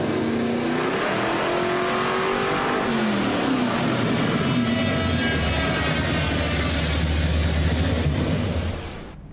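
A car engine revs hard in fourth gear on a dynamometer, a loud, sustained rising roar climbing steadily in pitch before cutting off abruptly at the end.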